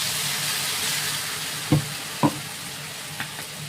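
Grated coconut and green chili sizzle steadily with prawns in a hot pan, a constant close frying hiss broken by a few sharp clicks of stirring.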